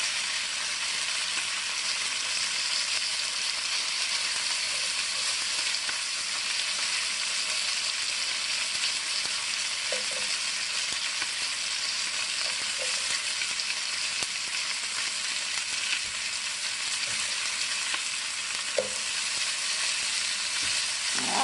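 Chuck roast and onions fry in a pan on the stove, a dense, steady, close sizzle that holds unbroken throughout with a few faint clicks of utensils beneath it.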